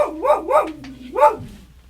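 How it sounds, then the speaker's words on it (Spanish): A small dog gives three or four sharp, high yapping barks in quick succession at close range, followed by a softer whimper, with no talking over it. "nuestra perrita acaba de ladrar"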